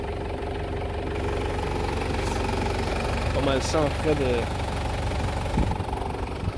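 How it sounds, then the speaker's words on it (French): A 1997 Toyota Hilux Surf SSR-G 4WD idles with a steady, close, low rumbling engine drone throughout, while someone talks over it. "On va éteindre le moteur."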